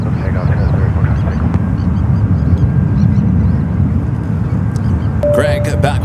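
A jet airliner rumbles loudly on its takeoff roll at San Francisco airport, a broad steady roar filling the whole clip, with a voice speaking over it near the end.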